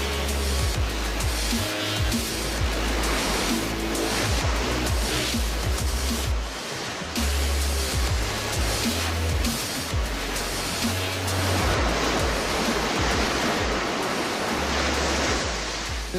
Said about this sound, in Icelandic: það gengur brimið yfir ykkur